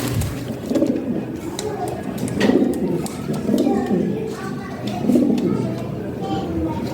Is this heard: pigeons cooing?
yes